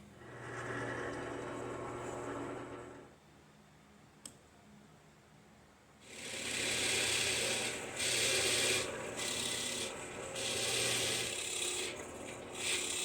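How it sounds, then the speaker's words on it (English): A power drill whirs into a dark guitar neck in sustained bursts, drilling fret dot holes, with a quieter pause of faint mechanical hum partway through, then several loud drilling runs close by. "Gonna drill our first fret dot"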